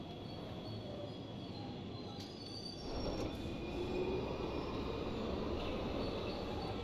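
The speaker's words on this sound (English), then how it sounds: "we've got trains coming and going" Trains come and go in the Train Station Simulator video game, giving a continuous rumble of rolling rail traffic with faint high squeals and a brief swell in level partway through, heard alone without talk.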